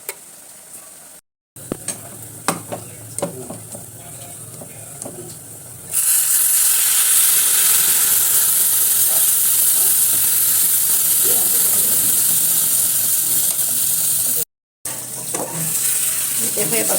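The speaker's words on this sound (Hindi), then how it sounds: "देखो ये बघार ले उसको इसमें डाल दीजिए" Hot baghar tempering poured into a tamarind drumstick curry sets off a sudden loud, steady sizzle that hisses on for several seconds, following quieter kitchen clatter and stirring.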